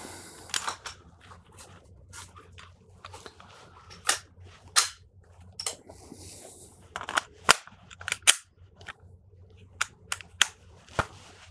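Pistol shots ring out during a shooting drill at a firing range, a dozen or so sharp cracks spaced irregularly, some in quick pairs, over a quiet background.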